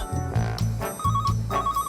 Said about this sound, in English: He phones his planner for help.